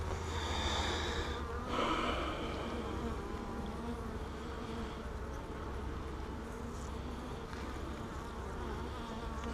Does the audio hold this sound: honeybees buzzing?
yes